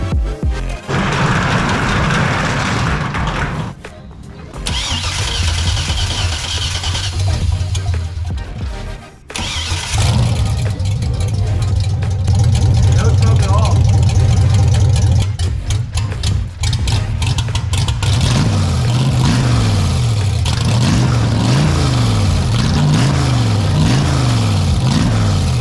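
A twin-turbo LS-swapped DeLorean cranks, catches and fires up loudly, then holds a heavy idle and is revved repeatedly in rising and falling surges, close and with no talk.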